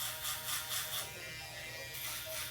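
Electric shaver working through very thick hair during a haircut, a steady close buzz with pulsing load changes as the blades bog down and recover, continuous throughout.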